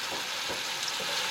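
Oil sizzles and crackles steadily in a pan as onions fry for chicken biryani, a close, continuous hiss with small pops.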